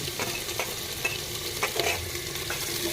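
Onions and green chillies fry in mustard oil with cumin, a soft continuous sizzle broken by a few light stirring scrapes, close and fairly quiet, with no voices.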